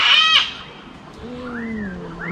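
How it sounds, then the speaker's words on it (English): Outside an old empty house, a bird gives a clear, loud call at first, then softer warbling, wavering calls follow alone with no talk. "What bird do you think that is?"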